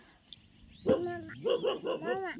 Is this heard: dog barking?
yes